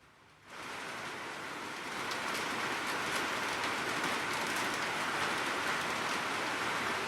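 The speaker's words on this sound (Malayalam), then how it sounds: "ഈ ഭാഗത്തിലും നല്ല മഴയാണ് പെയ്യുന്നത്" Heavy monsoon rain pours steadily in Thrissur during a red alert, a dense continuous hiss that starts abruptly and holds at a constant loud level, with no voices.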